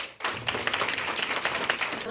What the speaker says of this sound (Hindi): तो एक बार अपने लिए ताली बजा दो।